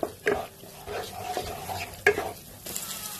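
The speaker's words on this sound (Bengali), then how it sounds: "এবার ভালো করে মিশিয়ে নেব" Yogurt being stirred into cauliflower korma masala in a pan on a low gas flame, a few wet scraping strokes with light clinks over a soft sizzle, close up, with no talking.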